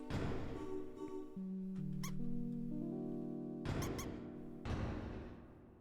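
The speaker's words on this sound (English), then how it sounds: "Sounds like the bridge was raised." A bridge rises in the video game Deltarune: a run of clear, bright electronic tones steps upward in pitch over a few seconds, with short chiming blips, then breaks off and returns near the end.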